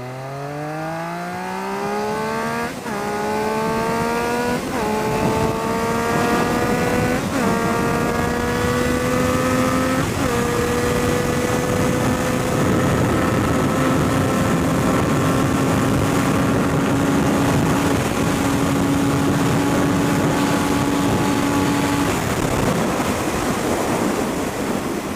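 A Triumph Street Triple motorcycle engine rises and falls in pitch across a ride in Ohio, with several gear shifts as it climbs steadily under constant wind rush, and no one speaks.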